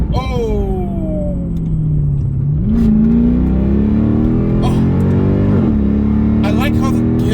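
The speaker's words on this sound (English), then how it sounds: "I like how the gearbox shifts." A 2007 Mercedes-Benz CLK63 AMG accelerates hard from inside the cabin, its engine note climbing steadily and then dropping sharply at each gear shift, loud and continuous.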